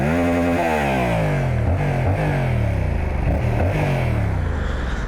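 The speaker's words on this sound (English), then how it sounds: "it's a stock exhaust. It's obviously not going to be the best sounding." A Yamaha MT-07 stunt motorcycle with stock exhaust revs repeatedly, rising and falling in pitch with a buzzy, raspy exhaust note, loud and close throughout.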